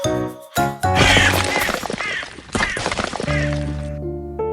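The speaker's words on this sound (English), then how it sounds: "things came crashing down" A loud, chaotic burst of crashing and shattering with tinkling fragments, followed by a sustained musical tone as the clatter settles.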